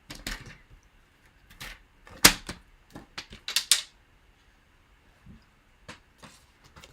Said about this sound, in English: Now let's get the trimmer out.